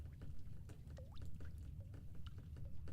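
Leaking pipes in The Stanley Parable make faint, trickling running water with small plinks and drips, a quiet liquid gurgle over a low ambient hum.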